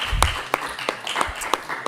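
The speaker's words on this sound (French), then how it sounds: "qu'on peut applaudir maintenant" A handful of scattered hand claps from an audience at a prize selection event, sparse and uneven over a low room murmur, fading in and out without building into full applause.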